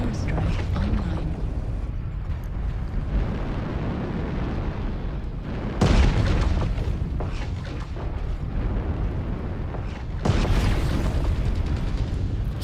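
Airstrike explosions in a mech combat game, sustained rumbling blasts with two sharp surges of heavy booming, continuous and loud throughout, under game radio chatter.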